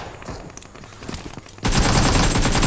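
Gunfire in the mobile battle royale game BGMI: a few scattered shots ring out, then a sudden dense burst of rapid automatic fire continues loud and sustained to the end.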